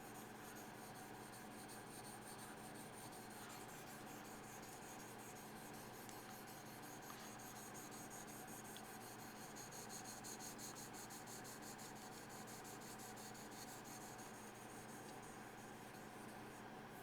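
A Yanagi knife is drawn steadily across a Han-Han whetstone wet with slurry, giving a faint, continuous rasping scrape with no pauses and no voices.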